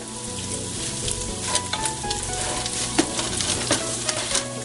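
Curd spooned into a hot pan while cooking Malabar-style prawn biryani sizzles loudly and continuously up close, with a few soft stirring scrapes and no voices.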